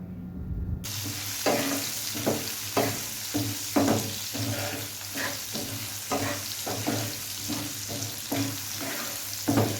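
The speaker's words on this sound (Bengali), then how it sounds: "নুন হলুদ দিয়ে আমি একটু কিছুক্ষণ আমটাকে ভেজে নেব।" Green mango pieces with salt and turmeric sizzle in a pan while a utensil stirs them in a steady rhythm of close scraping strokes over the constant frying hiss.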